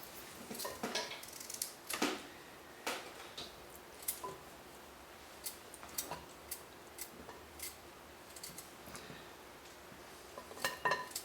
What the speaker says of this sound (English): cutting up a whole coconut like this into little bitty sections